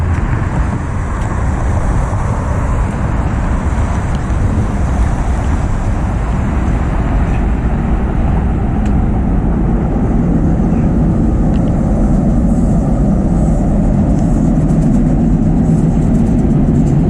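A loud, continuous low rumble of a train passing out of sight on the other side while walking in Dallas, steady and heavy throughout with no voices.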